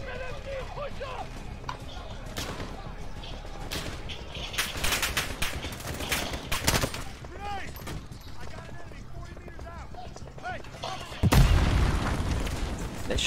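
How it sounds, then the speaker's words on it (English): Grenade blasts and gunfire in a Call of Duty: Modern Warfare campaign battle, dense bursts of shots and booms throughout with a heavy explosion near the end, heard under someone talking. "what's up with all these grenades?"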